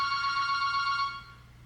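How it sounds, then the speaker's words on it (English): A shop's landline telephone rings with a steady electronic tone that holds evenly and then fades at the end, heard alone at moderate volume with no talk over it. "And that is our store phone ringing."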